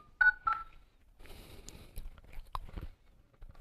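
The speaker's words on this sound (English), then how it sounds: "but currently let me dial again." Short keypad tones from a phone dialer on a Poco X3 NFC running Android 13, a couple of quick beeps at the start followed by soft tapping and handling noise, close and fairly quiet.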